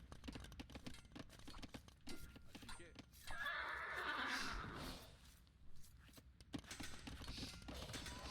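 A horse in the real-time strategy game Battlegrounds 3 neighs loudly with a clear whinny as it goes down, set amid the clatter of battle and hooves, with a commentator's voice running underneath.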